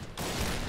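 Dense, loud burst of gunfire from a CheyTac sniper rifle with a silencer in the shooter game Point Blank, filling nearly the whole short moment after a brief quiet lead-in.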